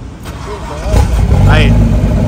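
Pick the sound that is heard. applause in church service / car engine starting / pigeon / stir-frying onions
car engine starting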